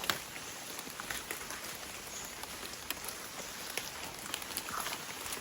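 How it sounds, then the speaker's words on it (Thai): Light, steady rain patters on leaves under tree cover in a tropical rainforest, a soft continuous hiss with occasional sharper drops. "ฝนตกเรื่อย ๆ ไม่ได้ตกแรงไงพี่"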